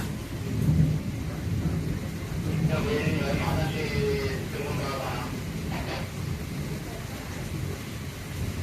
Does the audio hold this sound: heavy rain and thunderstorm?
yes